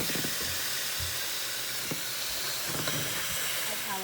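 Washed meat dropping into a hot pot sets off a loud, broad steaming hiss that runs throughout, close and continuous, with faint clinks and a voice underneath.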